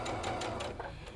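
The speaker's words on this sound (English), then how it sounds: "it's faster on your sewing machine. And we're gonna just go and we're gonna stitch with a 1/4 inch seam down these 2 seams" Domestic sewing machine stitching a quarter-inch seam on a quilt block, a short burst of rapid mechanical whirring close by, quiet and alone.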